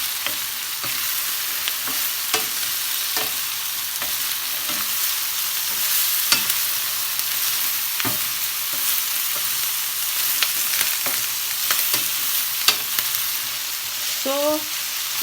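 Chicken pieces for sweet and sour chicken frying in a small frying pan, a steady loud sizzle and crackle of hot oil throughout with occasional pops and faint scraping.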